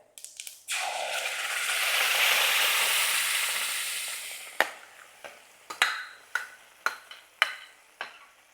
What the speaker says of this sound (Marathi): आता आपल्याला ह्याच्यात ही चिंचेचा पल्प टाकायचा आहे